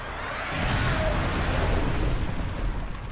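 A big explosion in Saw: The Video Game erupts as a loud, sustained roaring rumble lasting a few seconds, heavy and dense throughout, with no speech over it.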